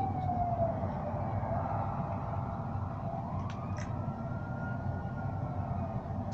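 A police car siren in GTA V wails steadily throughout, rising and falling over a constant low engine and traffic rumble, fairly loud and close, with a couple of brief higher chirps partway through.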